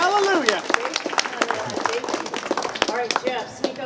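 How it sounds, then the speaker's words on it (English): An audience at a live event claps in a scattered, uneven patter while a voice speaks over it almost throughout, the clapping staying moderate and partly masked by the talk. "Can we just clap for that?"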